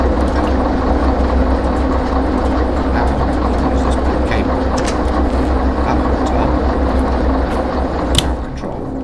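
Rolling train noise from the Derail Valley railway game, a steady low rumble with faint clanks as cars are coupled, carrying on alone throughout with one sharper metallic knock near the end.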